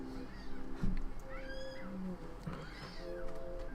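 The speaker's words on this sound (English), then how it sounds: "We have a kitten" A kitten meows loudly and repeatedly in a home, its calls rising over a steady background hum while a baby can be heard nearby.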